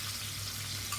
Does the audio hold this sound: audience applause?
no